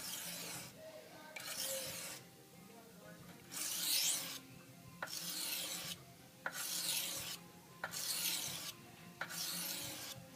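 A knife blade drawn across a small pocket sharpening stone with moderate down pressure, giving repeated rasping strokes in a steady back-and-forth rhythm, close and fairly loud, with brief quiet gaps between passes.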